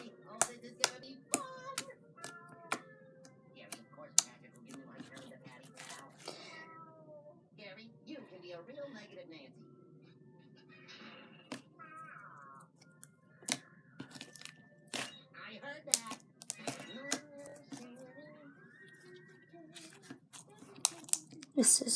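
Slime is poked with a finger, making sharp, sticky clicks and squelches that come in quick irregular bursts close up, while someone talks over them.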